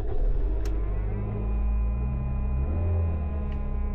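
A car engine turns over and settles into a low, rumbling idle with a steady hum close by, a couple of faint clicks over it and no talk.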